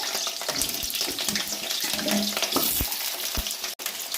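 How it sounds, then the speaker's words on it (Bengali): Potato pieces frying lightly in hot oil in a wok, a steady close sizzle with scattered crackles and a few sharper clinks running throughout, no talking. "এখন গরম কড়াইতে আমি তেল দিয়ে দিয়েছি, এর মধ্যে কয়েকটা আলু খুলে টুকরো করে রেখেছি, সেটা ভেজে নেব হালকাভাবে"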